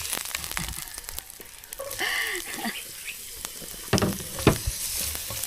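Tuna belly sautéing in extra virgin olive oil gives a steady crackling sizzle with sharp pops and a few louder stirring scrapes, close up, under faint background voices.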